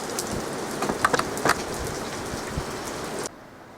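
Steady patter of pea-sized hail from a supercell storm striking a surface, with a few sharper ticks mixed into the hiss, ending abruptly in near silence.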